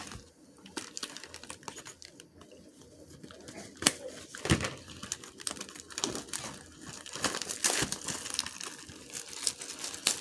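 Topps 2021 Series 1 hobby box packs being torn open, a close, continuous run of foil wrappers ripping and crinkling, with sharp tearing bursts and rustling in between.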